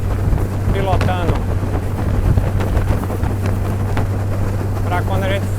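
An aluminium motorboat cruises on open water near Igarassu, with a steady low engine drone, wind buffeting the microphone, and a voice speaking briefly over the engine noise.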